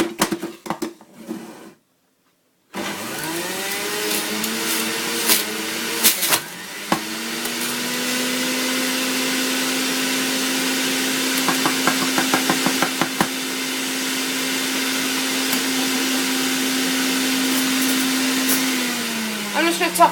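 An electric juicer processing apple, carrot and ginger: a loud motor whine that starts after a brief pause, with grinding and knocking as pieces are pushed through, running steadily to the end.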